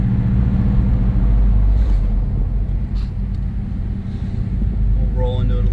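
Steady low rumble of a 1989 Mercury Grand Marquis engine and exhaust idling, deep and even throughout, with someone talking over it.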